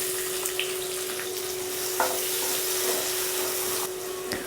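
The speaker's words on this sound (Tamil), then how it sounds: "நல்லா பெரிய சைஸ் வெங்காயம் 2 பொடியாக கட் பண்ணதை இதில் சேர்த்துக்கிறோம்." Two large finely chopped onions frying in a pan for Tamil-style paneer masala gravy, giving a steady close sizzle with occasional small stir clicks and no talk.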